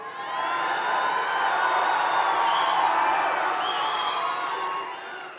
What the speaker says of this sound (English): It's a very energetic crowd